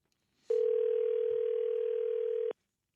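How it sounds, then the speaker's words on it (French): A single steady telephone dial tone, held for about two seconds, close and clear, starting and stopping abruptly, heard on a line before a long-distance number is dialed. "ça fait 4 numéros de plus à composer"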